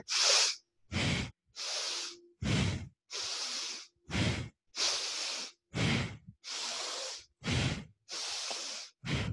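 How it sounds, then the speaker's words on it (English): Forceful rhythmic breathing during a kriya breathing exercise, with about a dozen loud, close inhales and exhales alternating in a steady pattern separated by short silences. "Inhale up, exhale down."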